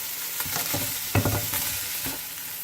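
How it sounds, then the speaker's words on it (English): Vegetables stir-fried in a pan for pasta in white sauce: close scraping stirs and clatters over a steady sizzle, several distinct strokes with a sharp knock near the middle. "Now in the same pan, I will just stir fry the veggies for a while"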